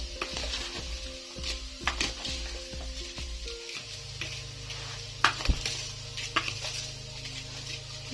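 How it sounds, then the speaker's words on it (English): Spoon scraping and stirring vegetable rice in a pan, a run of quick clinks and scrapes that gives way to a steady low sizzle, close by with no talk. "So I will mix it evenly."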